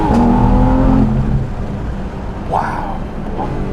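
A Porsche 911 GT3 RS engine pulls hard under acceleration, a loud rising mechanical note with strong harmonics for the first second before settling into a steadier drone, with brief vocal exclamations over it.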